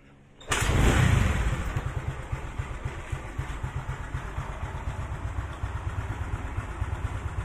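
A Honda Beat motorcycle with a carburetor and custom camshaft, not yet properly tuned, starts abruptly and runs steadily close by, its engine pulsing in a rapid, even rhythm, with no voices.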